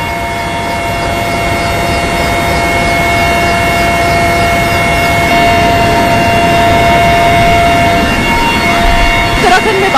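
Indian Air Force helicopter carrying a Border Security Force relief team toward Srinagar during flood relief, its steady loud rotor and engine drone filling the cabin throughout with constant tonal whine.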